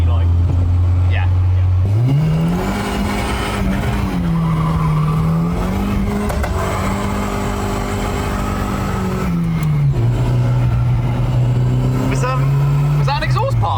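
Turbocharged Volvo with bigger turbo, cam and standalone ECU accelerating hard, a loud droning engine note rising and holding with tire noise, a voice speaking over it.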